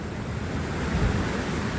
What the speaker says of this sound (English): some big waves coming in.